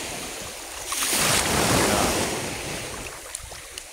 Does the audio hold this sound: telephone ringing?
no